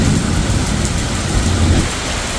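Heavy rain pours steadily in a Pahadi mountain setting, loud and dense throughout, with low thunder rumbling beneath the downpour.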